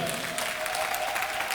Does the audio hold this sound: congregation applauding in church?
yes